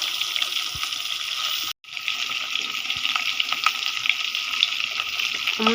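Eggs frying in a pan make a constant hissing sizzle that cuts out briefly partway through, then resumes steadily. No voices are heard.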